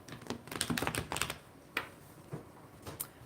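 Tarot cards being shuffled back into a deck during a live reading, heard as bursts of crisp riffling and soft slapping clicks, busiest in the first second and a half, then a few isolated taps, close and fairly quiet.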